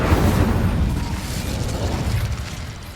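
The Incendio fire spell cast in Hogwarts Legacy, a loud whooshing burst of flame that roars at full strength from the start and slowly fades over a few seconds, with no talk.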